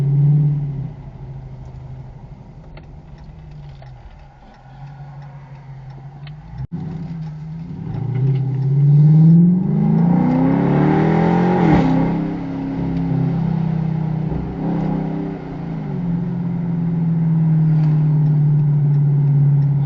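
A car engine hums and rises as it accelerates, with wind and road rumble washing over the cabin through open windows and an open sunroof, steady and fairly loud.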